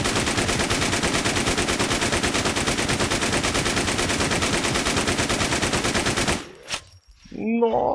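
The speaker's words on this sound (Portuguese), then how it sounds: "Nossa, são umas 500 balas pra matar ele." Sustained, rapid machine-gun fire in the zombie video game Infestation The New Z rattles loudly for about six seconds against the Super Zombie Alien, then cuts off abruptly, followed by a brief voice.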